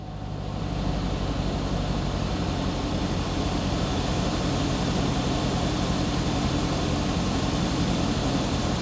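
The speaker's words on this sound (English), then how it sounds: "Everything feels normal, seems normal, really nice idle." A 2016 Corvette idles with its air conditioner running, giving a steady low engine rumble and an even broadband hum that hold constant throughout, heard close from inside the car.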